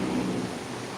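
Steady rain in Benidorm hisses and patters for a moment, with a low rumble underneath and no voices.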